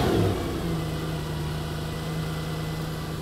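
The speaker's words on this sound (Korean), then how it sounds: "엔진 소리 한번 들어볼래요?" A Mercedes-AMG engine runs steadily after replacement of both cylinder head covers, giving a low, even hum with a brief louder burst at the start and no talking.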